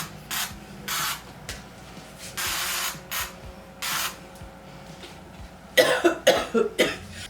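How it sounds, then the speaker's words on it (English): Several short hissing bursts from an aerosol sunscreen sprayed on arms, close up and evenly spaced, followed by rustling and clattering handling sounds. "I'm gonna go ahead and just spray my arms."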